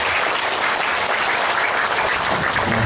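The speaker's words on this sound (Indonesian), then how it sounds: "Tepuk tangan dong buat rekan kita." Steady, dense applause from a crowd fills the whole stretch without pause, loud and even, at a smart parenting gathering in an Islamic boarding school in Palembang.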